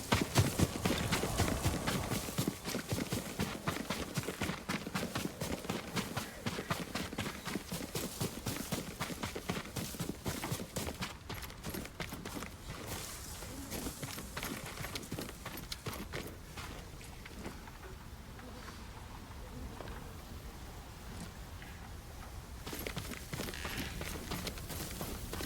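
Horse hooves clip-clop in the Ghost of Tsushima video game, a steady rhythmic stream of close hoof beats that gradually eases and quiets, with no talk.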